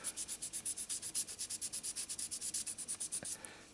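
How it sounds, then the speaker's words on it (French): Rapid back-and-forth rasping of sandpaper on the body of a 1/24 scale Ebbro Citroën DS 19 model, about twenty quick even strokes, close and steady, then stopping. "Alors bien sûr là on use assez rapidement le papier abrasif."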